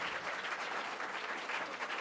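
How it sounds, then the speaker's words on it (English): Steady applause from an audience at a closeout event, a continuous dense patter of clapping at moderate level for the full two seconds with no voices over it. "Andy, we're going to give you a round of applause."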